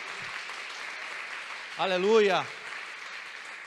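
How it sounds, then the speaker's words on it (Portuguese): A church congregation applauds, a steady bed of clapping running underneath while a preacher's voice briefly calls out over it. "Quer aplaudir? Pode aplaudir, amados."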